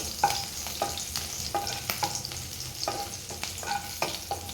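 Garlic and a green chilli sauté in hot oil for a bombil fried rice, a steady sizzle broken by repeated scrapes and clinks of a stirring spoon against the pan, close and fairly loud, with no talking.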